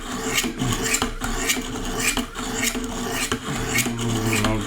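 Rhythmic knife-sharpening strokes on a Wicked Edge Pro guided sharpener, close, even rasping passes of the blade over the stones, roughly two strokes per second with short gaps between them.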